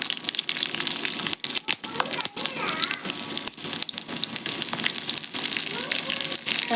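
Green chilies and mustard seeds splutter in hot oil at the start of a saag preparation, a dense, close crackle of rapid pops and sharp spits with occasional louder bursts and faint clatter.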